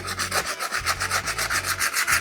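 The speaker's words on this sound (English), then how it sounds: "I'm gonna take my sanding block. I'm just gonna blend that in." A sanding block rubs back and forth over the parting line of a 3D-printed concrete garden gnome, making loud, close, regular rasping strokes about five times a second, with no talk.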